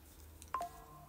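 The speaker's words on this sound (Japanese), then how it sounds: "携帯の音怖い。" A mobile phone gives off a short electronic notification tone, a single faint blip-like chime heard alone against quiet room noise.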